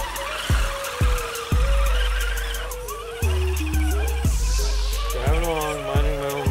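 An RC car driving through thick mud, its small electric motor whining and surging in repeated bursts with abrupt stops as it struggles and spins, close and fairly loud with someone talking briefly.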